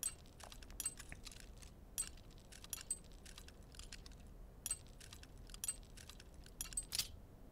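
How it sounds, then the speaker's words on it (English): Lockpick clicking and tinking against tumblers while picking a lock in the video game Oblivion, a quiet irregular series of small metallic ticks and taps, faint and alone. "as soon as you hear that tink, that second high-pitched tink is when you click"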